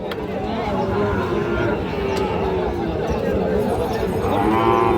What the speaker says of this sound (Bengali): এই দুইটি গরু।